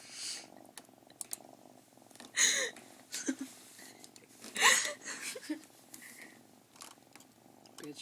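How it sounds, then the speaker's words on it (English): A calm cat purrs softly and steadily up close, with a few sharp bumps and short bursts of louder noise breaking over the low hum. "he even got socked and he didn't stop purring"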